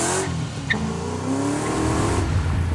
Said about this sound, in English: Sounds like a 5-liter Mustang.